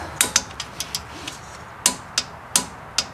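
Metallic clicks from a torque wrench tightening the pinch bolt on a 2010-2013 Mazda 3 front strut, about ten sharp ticks and knocks in an uneven rhythm, close and fairly loud, with no talking.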